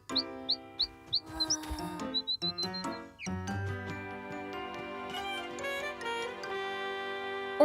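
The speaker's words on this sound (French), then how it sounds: "On dirait que l'oiseau va bien mieux." A small cartoon bird gives a quick run of short, rising chirps, then light jingly music with tinkling notes takes over.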